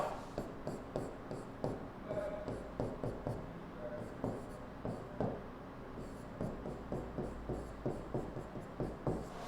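Handwriting letters of a word, a pen or marker scratching in short rhythmic strokes with brief pauses between letters, close and fairly quiet throughout.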